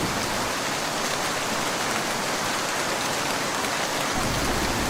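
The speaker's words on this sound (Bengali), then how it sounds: "বাইরে এখনো প্রবল বৃষ্টি।" Heavy rain pouring down as a dense, unbroken hiss, loud and steady throughout with no other sounds.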